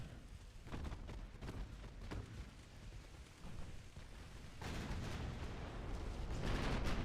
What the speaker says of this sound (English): Massive salvos out of our heavy cruisers.